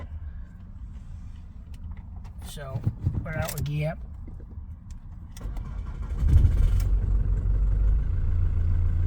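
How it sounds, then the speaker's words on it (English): A Jaguar X-Type with an EGR problem cranks and fires up, then settles into a steady, close low idle that continues to the end, with someone talking beforehand. "I'm just going to start the engine to show you what I mean."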